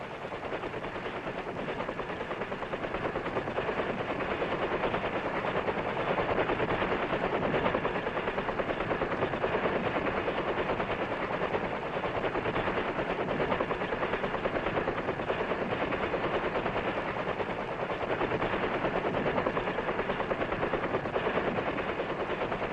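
Helicopter flying over a Vietnam rescue mission in 1965, its rotor and engine roar loud, steady and continuous throughout with no voices.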